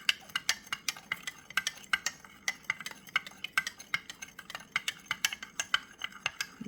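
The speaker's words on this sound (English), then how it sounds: "give it a good stir. Quick stir. Very quick." A liquidy casting mixture for making mini figures is stirred very quickly, giving a fast, steady run of close scraping clicks and taps against the container.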